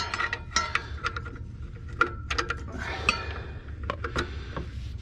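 Metallic clicks and ratcheting clinks of a wrench tightening a bolt on an engine pulley during a tune-up, close and moderately loud, in a series of sharp taps over a low hum.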